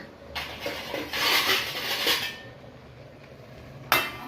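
A metal lid set onto a cooking pot of simmering rice in a home kitchen, giving a few light clinks and scrapes, then a sharp single clank near the end.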